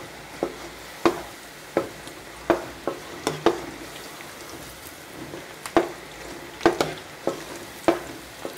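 Pastry dough frying in hot oil, stirred with a spider or perforated spoon and cooked a little at a time: a steady low sizzle broken by sharp clacking strikes of the utensil against the pan at irregular intervals, with no talking.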